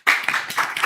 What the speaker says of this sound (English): clap for her, Zoina.